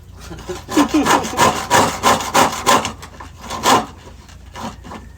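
Steady back-and-forth strokes of a hacksaw grinding through metal pipe, a rhythmic rasping repeated about a dozen times, close and fairly loud with no talking.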